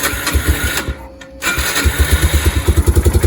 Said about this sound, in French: Donc pour cela, on va démarrer la moto.